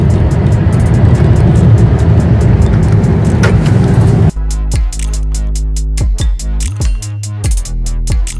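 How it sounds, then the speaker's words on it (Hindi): A long jam of road traffic on a foggy highway near Delhi: first a steady, loud roar of engines and tires, then idling vehicles and a run of repeated horn blasts from close by. "इतना ट्रैफिक इतना लंबा लंबा जाम लगा हुआ है"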